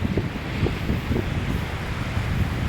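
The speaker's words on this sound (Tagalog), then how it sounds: "Makikita nyo talagang malakas yung alon" Strong surf breaking on a wide fine-sand beach at Laois Beach, Labrador, Pangasinan, a steady broadband roar of waves mixed with wind buffeting the microphone, continuous and fairly loud with no talk.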